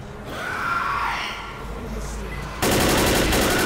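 Sustained gunfire and chaotic game combat from the Left 4 Dead Dead Air finale, a dense continuous rattle that grows louder and harsher in the last second, with no talk over it.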